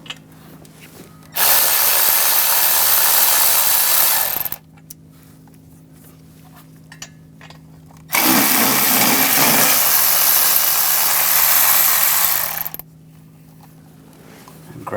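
A ratchet with a 14mm socket loosens exhaust manifold bolts on a 2013-2018 Hyundai Santa Fe, producing two long, loud, steady mechanical bursts separated by a quiet pause, with no talking.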